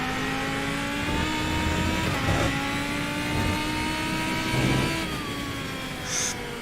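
A V10 car engine in a racing video game accelerates in fourth gear, producing a loud, continuous rising whine with steady harmonic tones. A brief shift dip comes near the end.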